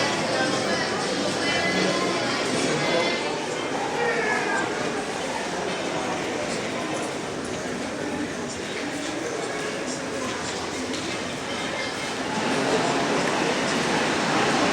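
A Mexico City metro subway train rumbles steadily in the background while someone talks over it, the rolling noise swelling again toward the end.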